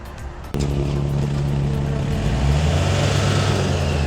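A Yanmar EF 514MU 51-horsepower used tractor's diesel engine, a steady close rumble with a low throbbing idle that kicks up sharply after a brief lull and keeps running evenly.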